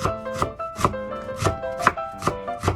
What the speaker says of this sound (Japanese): そしたら千切りにしますね。 みじん切り。